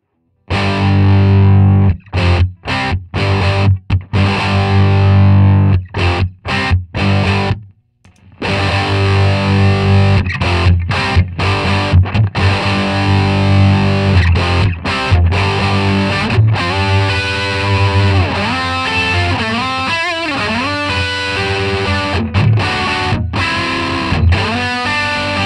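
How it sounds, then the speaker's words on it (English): Electric guitar played through an Electro-Harmonix Hot Wax dual overdrive pedal, blending Hot Tubes and Crayon sides for a distorted rhythm tone, loud and sustained with chopped strummed chords and short stops. "I've used the Hot Tubes side as my basic rhythm sound, and I'm going to use the Crayon side to kind of fill in the mids"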